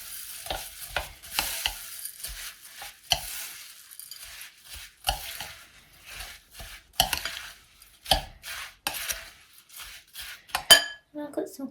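Rice Krispies mixed with a spoon in a bowl, producing irregular close scrapes, clinks and rustling crunches in quick bursts separated by brief pauses.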